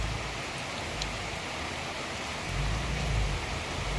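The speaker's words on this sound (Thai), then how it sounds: "มากับสายฝนครับ" Steady rain hiss fills the air with a constant wash of noise, while a low rumble swells toward the end.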